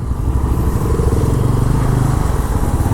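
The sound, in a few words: Bajaj Pulsar N160 motorcycle riding in 4th gear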